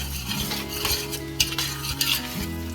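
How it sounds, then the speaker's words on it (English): Poblano peppers and andouille sausage sauté in butter in a pan, a steady sizzle under close scraping and clinking stirring strokes, with a low hum in the background. "Saute that down, cook them down in the butter."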